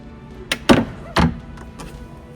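A magnetic door on a 2026 Chris-Craft Sportster 25 boat pushed shut with a light tap followed by two solid thunks as it catches, then a faint click; short and close.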